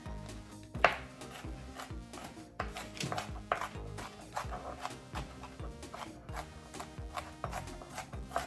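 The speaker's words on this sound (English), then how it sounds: "I'm just going to give again a little bit more of a fine chopping here." A kitchen knife finely chops onion on a board in quick, irregular, close-up taps and scrapes, quiet and without talk.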